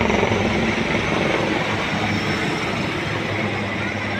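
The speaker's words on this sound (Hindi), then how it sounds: "ये इस फॉर्मेशन का नेतृत्व LCH में लेफ्टिनेंट कर्नल रणवीर ग्रेवाल ने किया है, जो कि प्रचंड के नाम से भी जाना जाता है" A formation of LCH Prachand light combat helicopters flies past during a military parade, a steady loud roar of rotors and turbines sustained throughout without voices.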